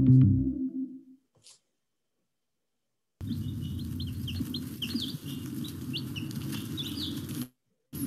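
Young backyard layer chicks peeping in a brooder, a busy chorus of high, quick chirps close by after a few seconds of handling noise and silence.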